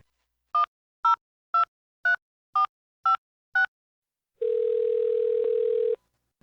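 A landline telephone picked up in a drama scene: seven short dialing beeps, evenly spaced, then a steady continuous dial tone that holds for about a second and a half, clear and close with no voices.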